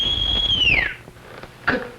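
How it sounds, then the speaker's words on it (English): A person whistles a single loud, high, sustained note that slides downward and stops, followed by a brief short chirp a moment later. "Can you whistle like this?"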